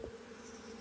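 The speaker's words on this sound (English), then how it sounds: "we'll get all these bees out. They'll be flying." Honeybees hum around an open backyard hive, a faint, even drone that holds steady through the brief moment with no talk.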